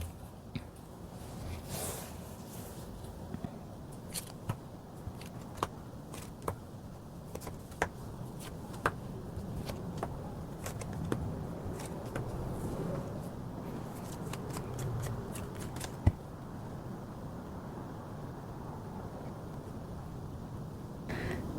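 Tarot cards shuffled and drawn during a reading, giving a soft continuous riffle and slide with scattered small taps and flicks, close and quiet, no talking.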